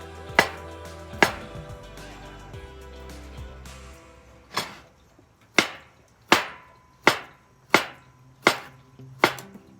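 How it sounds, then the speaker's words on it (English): Knife chopping a tomato on a cutting board for guacamole garnish: a few sharp isolated taps, then a steady run of seven evenly spaced crisp chops, close and clear with no talking. "I'm just gonna chop up another tomato to garnish it."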